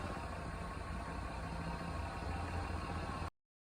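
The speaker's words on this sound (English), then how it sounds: "And the lathe on slow" A lathe turning at slow speed while a sphere-holding jig is set up hums with a steady low mechanical drone, close and even, then cuts off abruptly near the end.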